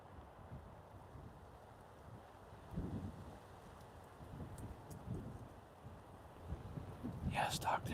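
Strong wind gusting through deer woods, a steady low roar with surging gusts and rustling, loud around the microphone, while someone talks quietly over it.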